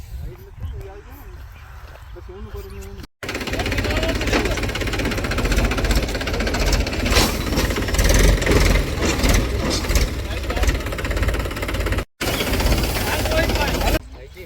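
A tractor engine runs close by on a farm, a loud, steady rumbling chug with a rattling knock that carries on for most of the stretch, while people talk over it.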